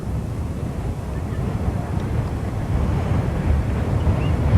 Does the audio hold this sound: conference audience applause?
no